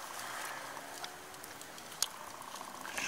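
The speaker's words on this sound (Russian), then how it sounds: "Шашлычок жарится у нас." Shashlik meat grilling outdoors, a soft steady sizzle and crackle of fat with a few sharp pops, close and fairly quiet, with no voices.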